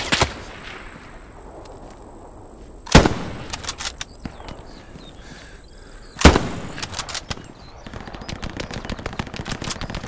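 Machine gun fire in Hell Let Loose at the Battle of Kursk, with two loud, sharp bursts and then rattling rapid shots, some near and some more distant, over a low battlefield rumble.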